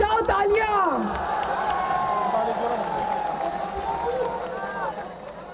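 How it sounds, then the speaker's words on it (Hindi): Crowd at a political rally outside the Election Commission of Pakistan building, cheering and applauding loudly throughout, with whoops rising over the steady roar. "तालियां बजाओ, तालियां।"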